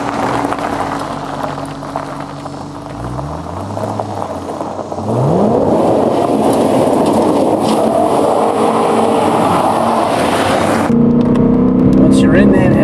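A 2011 BMW M3 in M sport mode accelerating hard, its engine note rising through gears with audible shifts, loud and continuous from inside the car without talk.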